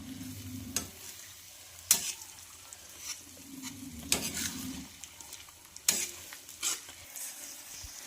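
Egg and spinach bhurji is stirred in a frying pan, with a soft steady sizzle beneath scattered spatula scrapes and clinks against the pan, several sharper taps spaced a second or two apart.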